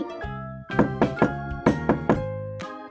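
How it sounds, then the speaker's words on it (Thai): Two sets of three firm knocks on a door, evenly spaced and close, with a pause between the groups. "เสียงเคาะประตูดังขึ้น"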